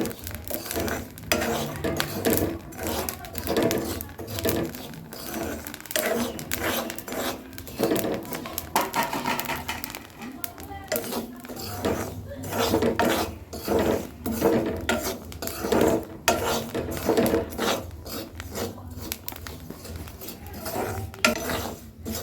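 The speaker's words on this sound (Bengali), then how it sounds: "দেখো কিরম ফুটছে দেখো" Rice puffing into muri in a hot pan on a gas stove, a dense run of crackling pops and scraping stirs that continues throughout, fairly close.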